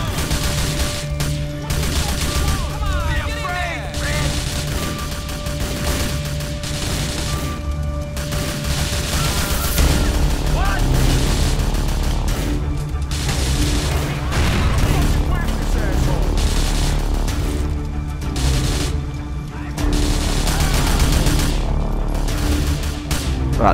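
Dense, rapid gunfire and bursts of explosions in GTA IV fill the whole stretch, loud and chaotic, with a voice talking intermittently underneath.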